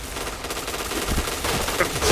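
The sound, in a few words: gunfire in a shooter video game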